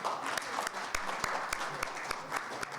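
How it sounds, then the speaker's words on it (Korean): Steady applause from an audience at a year-end event, a dense wash of many hands clapping continuously with a few sharper claps standing out. "뜨거운 박수로 부탁드립니다"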